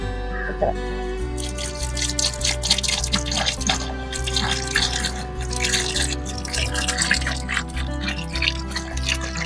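One liter of cow urine is poured into a farm-soil mixture for a natural jeevamirtham fertilizer, giving a steady nearby trickling, splashing flow that runs for several seconds with no talking.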